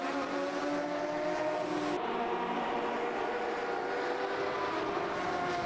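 Porsche race car engine in the Automobilista 2 racing game at Sugo circuit, a steady loud engine drone that shifts pitch around two seconds in, continuous with no talk.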